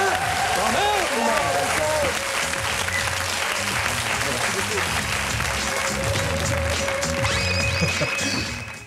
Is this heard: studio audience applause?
yes